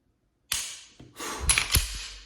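Canik TP9 SFX striker-fired pistol trigger pulled and reset, giving a few sharp mechanical clicks and snaps close up, one crisp click then a cluster of quick clacks, with no talking.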